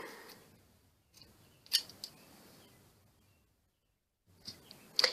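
Scissors snip through paper for a handmade mini book, with a few close, crisp cuts separated by quiet pauses.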